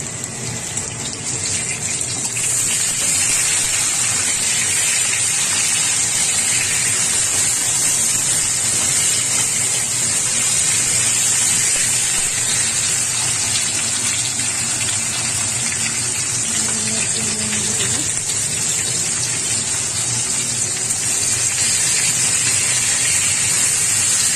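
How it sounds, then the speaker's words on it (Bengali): Tomatoes added to potatoes fried in a pan, a loud continuous hissing sizzle up close that holds steady throughout. "প্রথমে টমেটোগুলো মধ্যে দিয়ে দেবো।"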